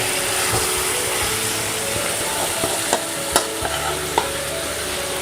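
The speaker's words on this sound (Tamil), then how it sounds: "நல்லா இப்போது வதக்கி விடுங்க." Marinated pepper chicken sautéed in masala sizzles steadily in a pan while a spoon scrapes and stirs, with a few sharp clinks against the metal and no talking.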